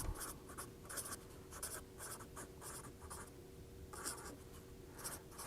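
A marker or chalk writes and draws on a lecture board in a fluid mechanics class, a run of quick, scratchy strokes in short bursts with brief gaps, faint and slightly distant in a quiet room.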